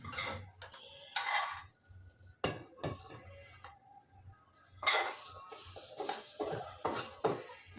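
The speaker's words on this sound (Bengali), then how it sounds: "এখন তার মধ্যে আমি শ্যামাইগুলো ঢেলে দিব প্রচণ্ড গরম হয়ে গেছে কড়াইটা" Dry vermicelli poured into a very hot wok, giving scattered clattering and rattling bursts against the metal in two main rushes, with quieter kitchen clinks between them.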